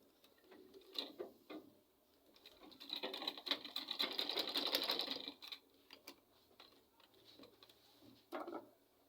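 Ankara fabric being stitched on a sewing machine, a fast mechanical whirring run of several seconds with shorter bursts before and after, fairly quiet, with birds cooing in the background.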